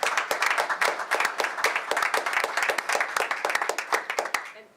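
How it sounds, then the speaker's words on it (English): An audience applauds at a public regulatory hearing, sharp close hand claps in a fairly even rhythm from a small group that run for several seconds before fading. "Round of applause."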